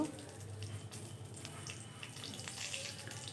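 Whole spices such as dried red chillies, cardamom, cinnamon and bay leaves crackle and sizzle steadily in hot oil in a wok for vegetarian cooking, a soft continuous hiss with faint pops and no talk.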